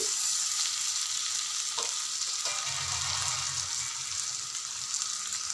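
Tomato pieces drop into ginger garlic paste frying in a pan for a bitter gourd curry, raising a loud steady sizzle that stays constant with a low bubbling layer underneath and no talking.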